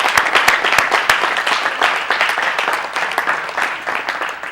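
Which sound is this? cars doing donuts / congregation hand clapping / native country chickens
congregation hand clapping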